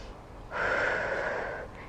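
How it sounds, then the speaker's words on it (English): A slow, audible breath during a gentle Pilates workout rises after a brief quiet moment and holds as one long, close airy exhale before easing off. "Slowly inhale and exhale."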